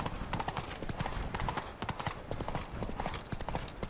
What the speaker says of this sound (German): Und da sind ja Wildpferde.